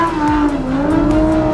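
A Lamborghini Huracan Evo's tires squeal loudly through a hairpin turn in second gear, with a sustained, wavering screech over the engine's steady drone, close and with no talk.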